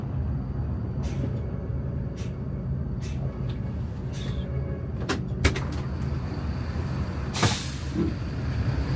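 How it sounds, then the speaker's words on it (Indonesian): Busy bus terminal ambience around a Juragan 99 sleeper bus, a steady engine rumble with repeated short hisses of air brakes and a louder burst of air near the end, no talking. "Nah ini bis yang khusus sleeper nih deh."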